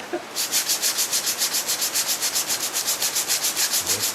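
Steady rhythmic sanding scrapes body filler on a Suzuki Cappuccino interior part, the strokes close and even at roughly four per second, going on without a pause and with no voices.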